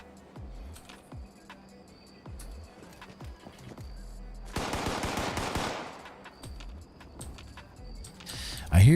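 Rapid automatic gunfire crackles in a dense burst lasting over a second in the Fallout 76 Steel Reign game, set among scattered thumps and footsteps, with people talking around it.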